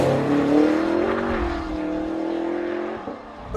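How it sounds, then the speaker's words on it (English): A blue Lexus GS F, a large fast sports saloon, drives past with a strong engine note that rises and holds a steady tone before easing off near the end. The engine is heard clearly without speech. "This is the new GSF, Lexus's answer to the big fast saloon question"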